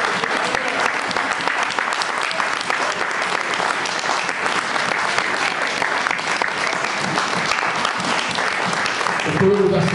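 A church congregation applauds continuously and loudly for the whole stretch, a dense, close wash of clapping with voices mixed in underneath.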